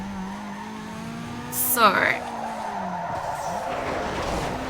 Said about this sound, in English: I'm getting so many outrageous drifts now.